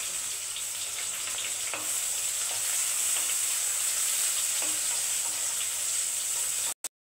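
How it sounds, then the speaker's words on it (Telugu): Onions and chillies frying in a pan for a ladies finger and tomato curry, a steady bright sizzle running throughout with faint stirring clicks, then cutting off abruptly near the end. "మిరపకాయలు వేగాక అందులో ఉల్లిగడ్డలను వేయాలి. ఉల్లిగడ్డలు లైట్ బ్రౌన్ కలర్ వచ్చేంత వరకు వేయించుకోవాలి."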